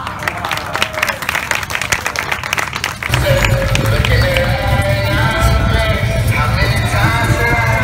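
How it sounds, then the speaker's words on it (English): Audience at an alligator show breaking into clapping and cheering, a loud crowd noise that swells partway through and holds steady, with voices mixed in. "Applause for the alligator."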